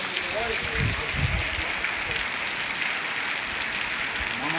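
Rain falls steadily during a heavy downpour in Visavadar, Gujarat, giving a soft, continuous patter and hiss of drops striking surfaces, with faint background sounds mixed in.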